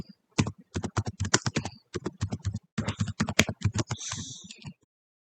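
Quick, crisp keystrokes on a computer keyboard while entering partition commands in Windows, rattling in dense bursts with a short pause, then a longer smeared press near the end before the typing stops.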